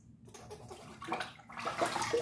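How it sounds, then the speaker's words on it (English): A freshly cut metal piece from supercharger install work on a 2011 Jeep Wrangler 3.8L V6 drops into a bucket of water, giving a close splash and slosh over brief shop noise. "every time I finish cutting something, it just drops into the bucket of water"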